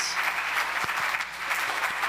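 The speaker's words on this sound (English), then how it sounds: "Round of applause to you guys for showing up in this weather." An outdoor crowd at an Indigenous Peoples' Day celebration applauds in the rain, a soft continuous wash of clapping heard from a distance, with a few sharper claps closer by.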